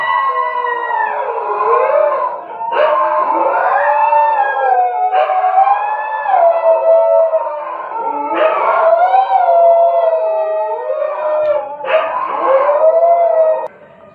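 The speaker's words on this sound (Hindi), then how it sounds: "ये बगल में कुत्ता लोग भौंक रहे थे" Dogs howl close by in long, wavering cries, several rising and falling in turn with short gaps between them. No talking.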